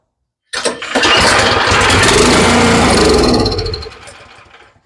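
Cub Cadet snow blower engine catching and running on fuel after priming, bursting into a loud rough chug that holds for a few seconds before sputtering and fading out.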